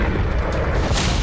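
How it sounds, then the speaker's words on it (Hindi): A bomb hidden in an electric scooter explodes with a single loud, broad boom that fills the short moment without any speech. "धमाका हो गया।"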